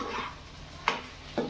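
A spoon stirs paneer chilli in a pan, a soft scraping stir followed by two brief clinks against the pan over a faint background hum, close and quiet with no talk.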